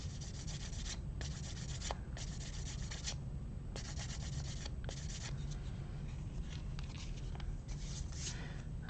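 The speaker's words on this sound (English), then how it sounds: "With the sanding sponges." A Gundam plastic model part is sanded with a fine sanding sponge in short rhythmic rubbing strokes, quiet and close, separated by brief pauses, with no talking.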